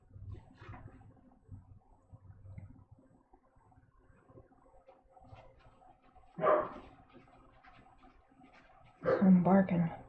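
A dog barks in a home art studio during a live painting session: two short, loud bursts mid-clip and near the end, over quieter background talk and clatter.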